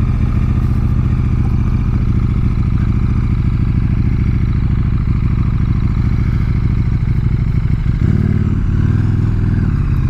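A custom electric motorbike riding on wet, dirty winter roads, with a loud, steady whine and rumble and constant road and wind noise close up, shifting tone near the end.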